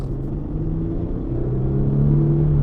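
A 2004 Mercedes-Benz CLK driving, with a steady low engine rumble and a hum that rises gently in pitch as it pulls along, heard from inside the car without talk.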